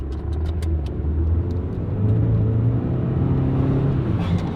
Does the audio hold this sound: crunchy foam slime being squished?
no